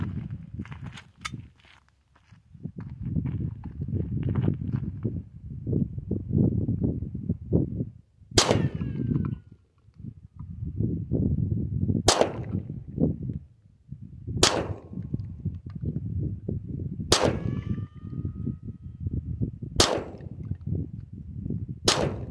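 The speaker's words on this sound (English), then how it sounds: "I'm gonna take a few shots." Six sharp gunshots from a Polish P-64 pistol fired outdoors, spaced a few seconds apart and each ringing briefly, with steady low wind or handling noise in between.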